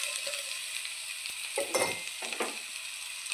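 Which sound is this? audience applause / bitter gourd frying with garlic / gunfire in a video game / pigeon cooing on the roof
bitter gourd frying with garlic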